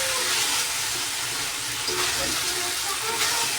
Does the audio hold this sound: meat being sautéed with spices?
yes